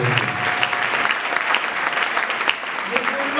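A church congregation at a seminar closing claps steadily and loudly as one continuous wash of applause.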